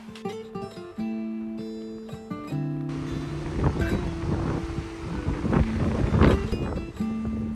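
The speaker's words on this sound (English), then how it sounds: "This is Lake Hawea. It's close to where our tiny home is." Strong wind buffets the microphone outdoors at Lake Hawea, New Zealand, with roaring gusts building over a sustained tonal drone and no talking.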